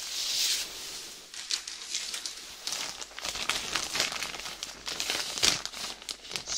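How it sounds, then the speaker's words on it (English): A small plastic bag holding two items crinkles and rustles up close in a dermatologist's office. The crackling runs continuously with sharper crisp bursts, and no one talks. "I got these two things in this little plastic bag."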